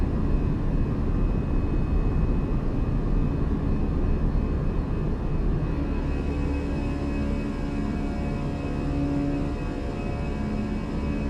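An Airbus A320 jet in a flight simulator accelerates after takeoff, a steady loud engine roar with a broad rumbling drone and faint tonal whine holding constant throughout, no voices.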